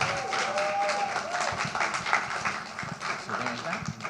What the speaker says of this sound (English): let's give her a round of applause and welcome her